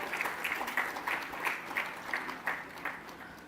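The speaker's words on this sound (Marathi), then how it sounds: "जोरदार टाळ्या मुंबईसाठी आपल्या" Rhythmic applause at an award ceremony for a district index, a run of about ten distinct claps, moderately faint and reverberant in a hall, without voices over it.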